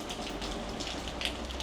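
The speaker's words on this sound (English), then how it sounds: "Hopefully within the hour, the skies will clear and the rain will stop." Rain falling steadily on the Italian seaside, a soft continuous patter with scattered brighter drops, moderately quiet and unbroken by any voices.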